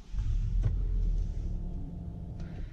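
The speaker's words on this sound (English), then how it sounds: "press the button to start the engine" A 2.0 AWD Hyundai Santa Fe Sport Ultimate engine fires up by push button, starting with a short crank burst and settling into a low, steady rumbling idle heard close from inside the cabin, with a faint click near the end.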